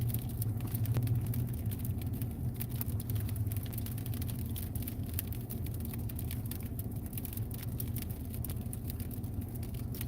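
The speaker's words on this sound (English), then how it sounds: "Looks like a municipal plow truck right there." A municipal snow plow truck passes on a road during a winter storm with heavy sleet, its steady low engine rumble and road noise filling the background, moderately loud and continuous, with no talk.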